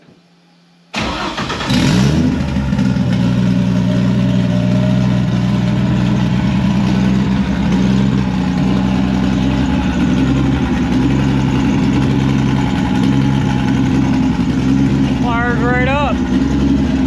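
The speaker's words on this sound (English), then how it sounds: "It's not running right. It's got a high idle to it" A Vortec 4200 engine swapped into a Datsun 240Z cranks, fires up and settles into a steady, loud high idle that keeps droning, heard up close, with a brief voice near the end.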